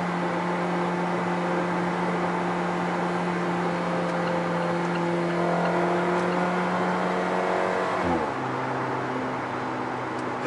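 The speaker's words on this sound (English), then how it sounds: "got that turbo fart when you upshift." An Alfa Romeo 4C turbocharged engine drones steadily, then drops pitch sharply as it shifts up, with a brief burble at the gear change.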